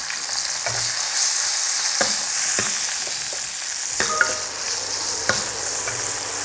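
Dried red chillies fry in hot oil for a tomato chutney, giving a steady, close sizzle throughout with a few light taps of a stirring spoon against the pan.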